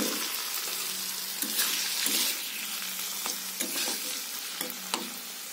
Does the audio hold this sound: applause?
no